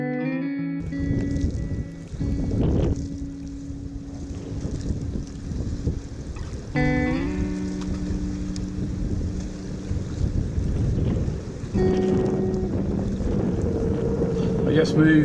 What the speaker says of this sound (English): Wind's back to the east pretty strong.